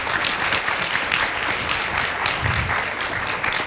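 Sustained applause from an audience of students at a university lecture hall, steady and dense throughout, with no break.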